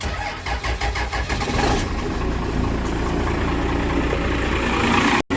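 A Cummins diesel truck engine cranks with a rapid rhythmic churn for about two seconds, then catches and settles into a loud, steady idle rumble that ends in an abrupt cut.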